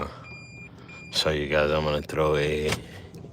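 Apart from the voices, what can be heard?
beeping noise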